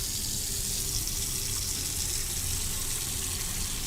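Water runs steadily from a tap into a container, a continuous, even rush and splash that stays at moderate loudness throughout with no talking.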